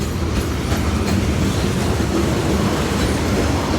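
A CSX freight train hauling a long string of tank cars rolls past close by, a steady loud rumble with rhythmic wheel clatter and faint squeal throughout.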